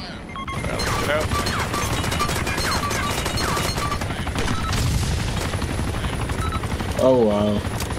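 Steady droning rotor and engine of a helicopter in the video game Insurgency, continuous throughout with scattered gunfire and crashes mixed in and voices talking over it.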